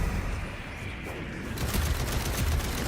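Gunfire crackles in The First Descendant, a dense burst of rapid shots that grows heavier and brighter partway through and stays loud.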